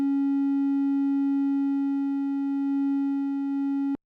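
A Cherry Audio Memorymode synthesizer, an emulation of the Memorymoog, holds a single triangle-wave note: a pure, steady buzz-free tone with soft overtones that sustains evenly alone and cuts off abruptly at the end.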